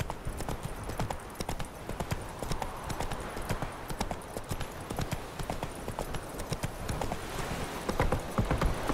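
Horse hooves clip-clop steadily in The Witcher 3, a continuous, even trotting rhythm heard close over ambient game sound, with no talk over it.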